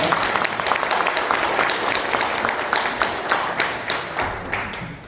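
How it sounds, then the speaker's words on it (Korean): A symposium audience in a small conference room applauds to welcome a professor before his talk, a dense steady clapping from a modest crowd that tapers slightly at the end. "그 박수로 환영해 주시기 바랍니다."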